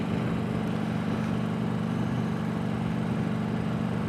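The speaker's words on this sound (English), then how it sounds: "I'm sure you can hear the Eagle purring away down the road here." An Eagle motorcycle cruising down the road at about 70 mph, its engine giving a steady, continuous low drone with road and wind rush, unchanging throughout and with no voices.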